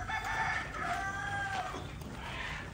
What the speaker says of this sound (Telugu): ఇది మన ప్యూర్ తెలంగాణ కోడి